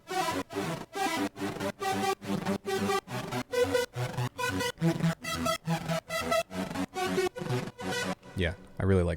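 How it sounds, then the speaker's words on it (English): A bright, screaming supersaw-style lead synth patch built in Phase Plant plays a rhythmic run of loud, evenly spaced stabbed notes, with a brief sweeping tail at the end; no talking. "The second patch that I have is my personal favorite because it's kind of like that screamy saw lead that we have, and it sounds like this."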